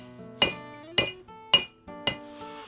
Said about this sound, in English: I bring the piece over the horn of the anvil, and I begin to shape the final portion of the handle